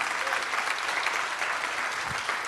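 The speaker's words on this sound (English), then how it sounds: "Give yourselves a round of applause" Applause at a village grand opening press briefing, a dense steady wash of many hands clapping from a crowd, sustained and even across the whole stretch.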